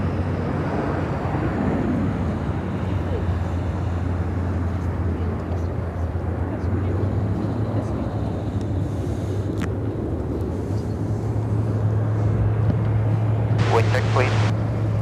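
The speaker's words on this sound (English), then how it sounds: "This is American Airlines 160 taking off to Athens, Greece on the 787-9 Dreamliner." An American Airlines Boeing 787-9 Dreamliner taking off at Chicago O'Hare, a continuous broad roar of jet engines with wind noise across the microphone and a low steady drone, heard from some distance.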